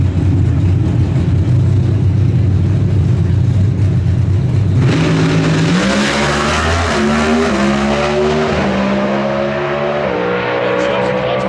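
A Pro Stock drag racing car at the NHRA Winternationals launches hard down the strip with a loud rising engine roar and climbing gear-change tones, the race commentator talking over it.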